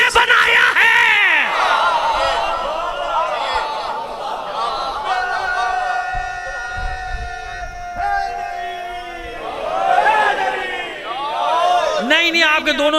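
A crowd at a Shia religious gathering in Johar Town shouts two different slogans at once, a loud massed call of overlapping voices that swells at the start, fades, and rises again near the end.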